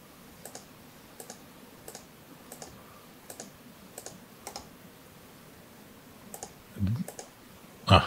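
Crisp, close clicks in quick pairs and singles at a steady pace from a computer mouse while working in Pixera Control software, with a light rustle near the end.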